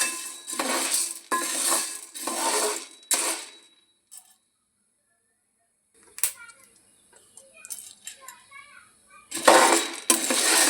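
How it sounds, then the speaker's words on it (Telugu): Chickpeas are being dry-roasted in a pan, giving bursts of rattling, scraping clatter separated by quiet gaps, before the stirring picks up again at the end. "శనగలు మాడగొట్టొద్దండి, మాడకుండా మంచిగా వేయించుకోవాలి."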